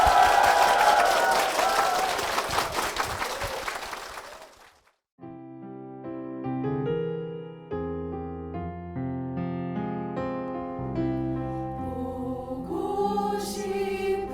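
Church congregation applauds four people at a Korean church service, a full burst of clapping that fades out over about five seconds before a sung hymn with accompaniment begins.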